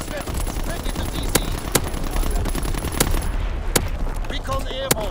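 Video game artillery barrage and gunfire, with sharp shot transients over a dense continuous battle din and radio-style voice callouts throughout.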